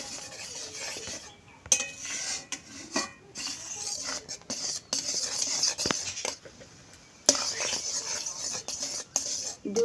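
A spoon stirs and scrapes inside a pot of boiling milk as it is reduced for kulfi, with irregular metallic clinks and rubbing scrapes at close range and no talk.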